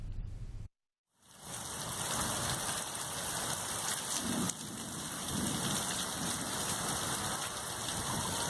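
Heavy rain during a thunderstorm in Visakhapatnam, a steady dense hiss of downpour on surfaces that continues without break after a short silent gap near the start, with a faint rumble of thunder underneath.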